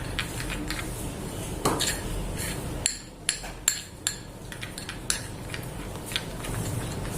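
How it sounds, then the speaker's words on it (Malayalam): Homemade chocolate being mixed in a bowl, with a spoon or utensil clinking and scraping against the bowl in irregular taps and knocks over a steady background hiss, close and fairly loud. "നല്ലോണം ചോക്ലേറ്റ് എടുക്കുമ്പോൾ നല്ലോണം ഇത് മിക്സ് ചെയ്തെടുക്കുക."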